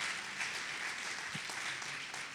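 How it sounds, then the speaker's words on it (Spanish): A church congregation applauds at a sermon, a soft, steady patter of clapping heard from some distance, fairly faint and unbroken. "dale también un aplauso al Señor por su corrección"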